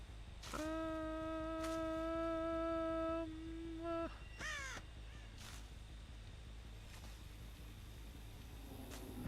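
Crows caw in the video game Dead by Daylight, giving several loud, harsh tonal calls in quick succession and then fainter caws over a low ambient game drone.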